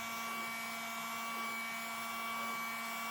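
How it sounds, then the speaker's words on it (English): A small handheld blower pushing out air in a steady, even whoosh with a constant motor whine, close and unbroken, no voices. "take my little blower here, this one, and to blow it out this way"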